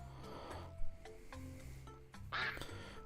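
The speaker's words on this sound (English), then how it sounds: "I want the duck sound this time." Brief cartoonish duck quacks from a Jackbox party game, a few short honking calls in sequence with faint background chatter.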